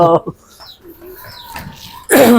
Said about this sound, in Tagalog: Naririto ito mga ibon ni pare sa amin, mga Victor Lim.